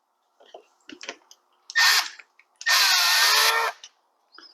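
Power drill driving a screw during a repair of an earthquake auger, two bursts: a short whirring run followed by a longer steady one, close and loud, with clicks and handling knocks around them.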